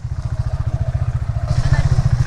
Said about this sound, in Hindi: अरे भाई चलाई नहीं जा रही बाइक